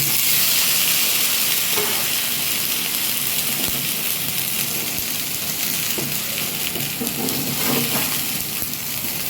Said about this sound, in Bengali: এবার আমার স্টিম যে স্ন্যাক্স এর মধ্যে আমি দিয়ে দেব।